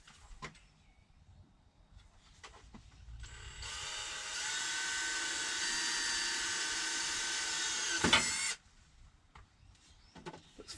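An electric drill bores a rivet hole in a Livescope pole, a high, steady whine lasting about five seconds that rises slightly before cutting off, with quiet handling noises before and after.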